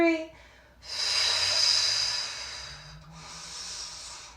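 Deep yoga breath drawn in during a vinyasa class, a long airy hiss that swells after a short pause, eases briefly, then continues steadily at close range.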